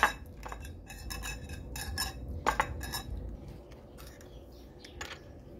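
Mashed sweet potato stirred into beaten egg and sugar in a bowl, a utensil clinking and scraping against the dish in quick irregular taps, close and fairly quiet.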